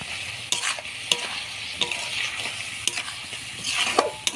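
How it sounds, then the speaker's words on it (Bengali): Spice paste for chicken curry fries and sizzles loudly in a pan while a spoon scrapes and stirs it in quick irregular strokes, with sharp clacks against the metal. "বাটি ধোয়া জল দিয়ে দিব মশলাটা ভালো করে কষানোর জন্য।"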